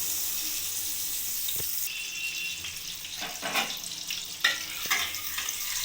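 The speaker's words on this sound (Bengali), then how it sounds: "তেল আর বাটারটা আমি কড়াইয়ের মধ্যে মিক্সড করে নিলাম আর তেল আর বাটার গরমও হয়ে গেছে" Butter and a little white oil heating in a wok on a gas stove, with a steady faint sizzle and scattered clinks and scrapes as they are mixed, no talk.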